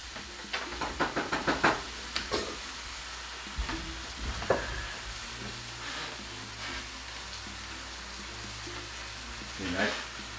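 Garlic sizzling in a pan with salt and pepper while being stirred, a burst of quick scraping knocks early on, then a steady low sizzle under faint voices and occasional clatter.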